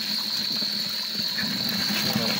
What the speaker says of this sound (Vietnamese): Mọi người nghe tiếng nước chảy không?